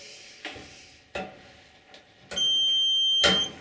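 A multimeter continuity test on an electric clothes dryer heating circuit, a few sharp clicks of probes touching, then a steady sustained beep lasting about a second, loud and close.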